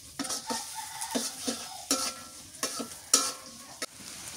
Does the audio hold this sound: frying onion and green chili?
yes